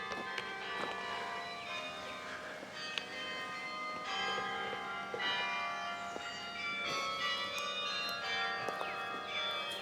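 Tower bells at Bok Tower Gardens ring continuously in overlapping, sustained tones, heard from a moderate distance with a faint outdoor ambience beneath.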